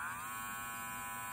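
Professional BESTBOMG electric hair clippers run with a steady, very quiet high-pitched buzz, close-up and alone for about a second.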